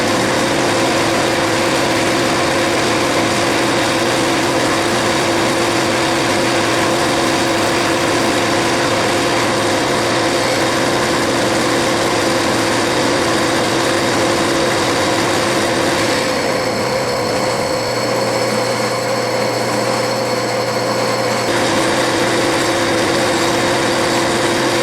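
A metal lathe turns a shaft down to half-inch diameter, giving a steady motor hum with a continuous cutting whir that changes tone briefly partway through, then settles back, loud and close with no speech.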